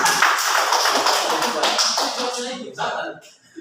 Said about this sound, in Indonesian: kita tepuk tangan untuk para ulama